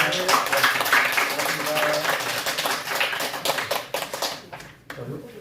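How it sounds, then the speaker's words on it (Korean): A crowd at a Buddhist lecture applauds with a dense patter of clapping hands that carries on for several seconds, then thins out and trails off near the end. "박수 한번 더 보내주세요."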